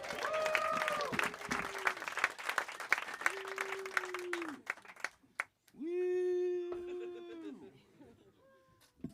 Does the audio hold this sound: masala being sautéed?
no